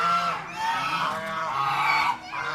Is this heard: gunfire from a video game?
no